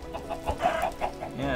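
Minecraft chickens clucking in a short run of game-style bursts, clear and close with no talk over them.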